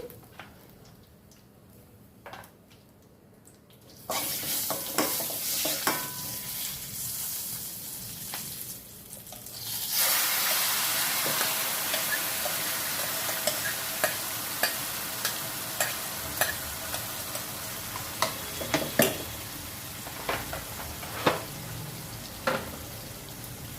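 Spices tempering in hot oil for brinjal pickle start quiet, then swell into a loud, steady sizzle, with a ladle scraping and clicking rhythmically against the pan as it is stirred.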